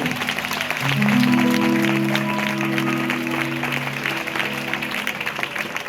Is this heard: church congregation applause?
yes